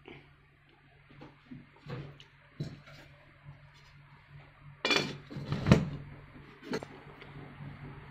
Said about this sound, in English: Then close with the lid.